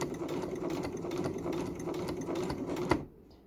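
A sewing machine stitching fabric up close, a rapid steady mechanical whir and clatter running for about three seconds before stopping with a final clunk into near silence.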